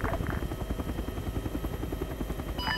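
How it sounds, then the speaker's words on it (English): A Chinook helicopter in ArmA 3 gives a steady, rapid rotor chop, loud and close and continuous throughout, with no talk over it. "Confirm we're getting extracted in a Chinook."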